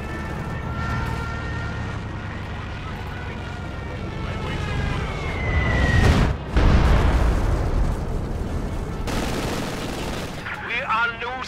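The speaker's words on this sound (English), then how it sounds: "Stuka will bomb the target." A Stuka dive bomber strikes a target in the World War II strategy game Company of Heroes 2, with a rising wail followed by heavy booming blasts and rumbling battlefield gunfire, loud and close, with voices in the mix.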